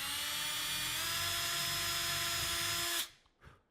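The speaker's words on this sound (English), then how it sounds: "I'm going to drill through to the pilot hole for the dowel" Power drill boring a pilot hole through a live edge wood shelf for an 8-32 screw, a loud, steady high whine that cuts off abruptly near the end, followed by a brief quieter burst.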